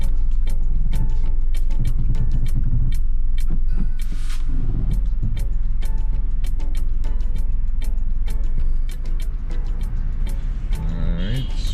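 A car driven toward a stop sign during a South Florida driving test gives a steady, loud engine and road rumble throughout, with voices talking over it.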